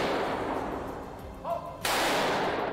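Rapid gunfire from a shooting-range training session for civilians in Ukraine, a dense burst of loud, crackling shots that breaks off briefly, then resumes at full force with no voices.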